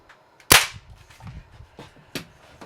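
A single sharp crack from a Daisy 880 air rifle shot at 25 yards, close and loud, followed by a few faint knocks and handling sounds.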